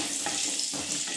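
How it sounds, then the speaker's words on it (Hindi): Potatoes frying in hot oil in a pan for a hotel-style dum aloo, giving a steady, even sizzle with a couple of soft stirring bumps, close and moderately loud. "अब जो हमने आलू फ्राई कर रहे हैं वो उनको उल्ट पुल्ट करते रहेंगे कि नीचे ये चिपके नहीं"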